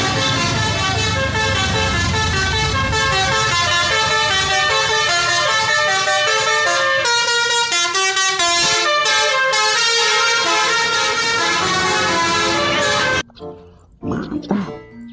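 A Wardel bus blares a loud musical horn while passing, with a long rapid sequence of tuned toots lasting about thirteen seconds, then stopping sharply, leaving brief quieter noise.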